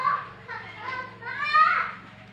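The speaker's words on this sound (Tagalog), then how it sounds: "Ingay ng mga bata." Children shout and chatter noisily outside on a street, a lively cluster of young voices rising and falling across a couple of seconds, heard from indoors with a low steady hum beneath.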